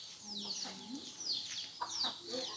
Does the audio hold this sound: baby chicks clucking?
yes